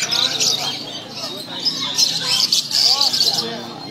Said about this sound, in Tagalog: Ito yung mga ibon. Di ko alam kung anong tawag sa ibon.